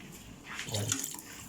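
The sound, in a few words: water poured into pot for duck tinola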